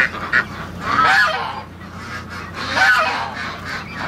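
Muscovy ducks and geese crowd around newly hatched ducklings, honking loudly and repeatedly at close range, with no talk over the calls.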